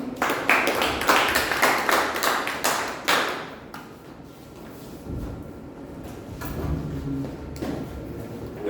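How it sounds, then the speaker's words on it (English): Applause at a Toastmasters club meeting welcoming an evaluator: a burst of sharp, close claps for about three seconds, then fading into quieter room sound with faint scattered noise. "Please welcome, with a huge round of applause, our journal evaluator, Toastmaster Benjamin"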